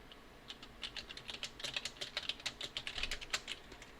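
Rapid keystrokes on a computer keyboard as shortcut keys are pressed while typing in illustration software, a steady run of light clicks close to the mic with no talking.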